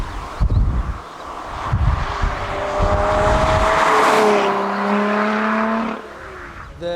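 A Lotus Exige V6 sports car passes by, its engine note rising to a loud, sustained drone and then fading, with some wind and tyre noise and no talk.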